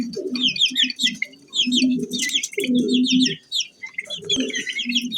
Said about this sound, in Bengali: টার্কির বাচ্চা,